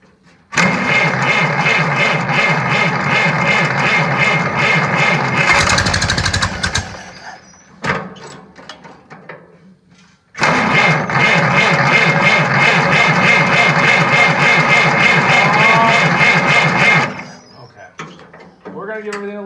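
An Oliver 60 tractor engine on a cold start runs loud and close with a rough, rapid rhythmic chug, cuts out briefly with some clanks, then fires again and runs for several seconds before dropping away.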